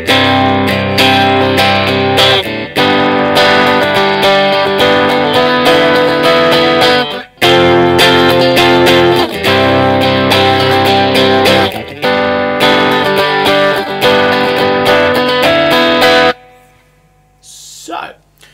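An electric guitar run through effects plays the bar-chord chorus of a song, loud and continuously strummed with a brief break partway, then cuts off and leaves only faint trailing sound.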